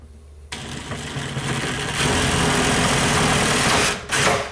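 A power drill drives a self-tapping screw while closet floating shelves are installed: a steady, close motor whine that rises and holds for several seconds, dips briefly near the end, then surges again, with no voices.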